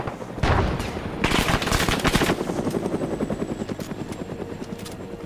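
Helicopter rotor thumping steadily in a military shooter video game, with bursts of machine-gun fire rattling over it, loud and close throughout.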